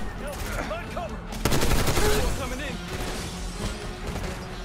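Machine gun fire in Call of Duty Black Ops 6, a sudden loud burst of rapid shots crashing in after quieter game sounds, then scattered gunfire with a player's voice over it.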